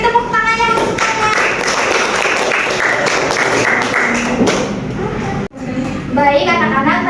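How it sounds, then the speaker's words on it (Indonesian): Fourth-grade pupils in a classroom clap together for a group during a science lesson on magnets, a burst of close, lively clapping mixed with children's chatter, a brief gap, then voices resume. "Boleh beri tepuk tangannya untuk semuanya."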